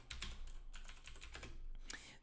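Quick, uneven bursts of keystrokes come from a computer keyboard as code is typed, with soft clicks close by in a quiet room.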